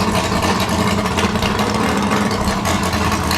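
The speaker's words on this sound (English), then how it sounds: "Waiting for the race car to stop making noise." A race car engine idles at a racetrack, a loud, continuous rumbling drone with a slightly uneven throb, close and alone with no talking.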